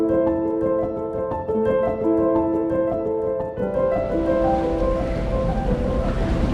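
A sailboat moves across the open South Atlantic with steady rushing wind and waves washing against the hull, loud and continuous, with a low hum underneath and no talk.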